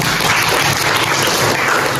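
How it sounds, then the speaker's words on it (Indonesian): Applause from a classroom of students, a dense steady patter of clapping filling the whole short stretch at moderate loudness, with no voices over it. "Sama-sama tepuk tangan dong."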